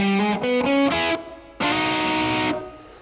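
Overdriven electric guitar plays a short blues shuffle lick: a quick rising run of bent and slid notes, a brief pause, then a loud sustained held note that fades.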